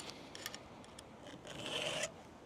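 A hand file sharpening a chainsaw chain, producing quiet close rasping strokes in short bursts that grow into a longer, stronger stroke near the end.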